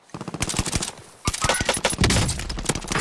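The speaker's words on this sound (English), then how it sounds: "Bastards are shooting at me!" Rapid bursts of automatic gunfire from the video game Warzone, with a brief lull near the one-second mark before heavier, denser shooting resumes close and loud.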